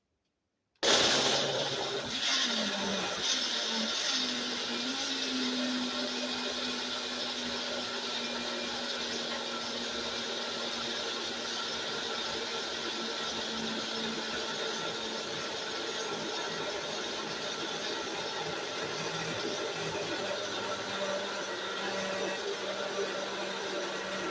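A blender whirs steadily for about twenty seconds, mixing a kiwi and orange smoothie with only a little liquid. The motor starts abruptly and holds a loud, constant drone with a faint rising whine early on, and no talking.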